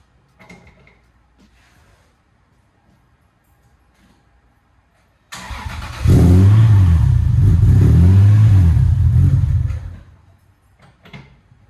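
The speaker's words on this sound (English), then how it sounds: "if this car will start" A Lexus SC300's engine cranks and fires after a quiet stretch, then revs up twice in quick rising swells before settling back to a lower idle, close and fairly loud.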